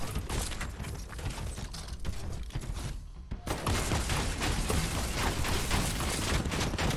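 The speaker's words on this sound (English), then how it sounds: "Missiles." A mech in Fortnite firing missiles: a dense, loud, continuous barrage of rapid launches and blasts, briefly thinning midway before surging back at full intensity.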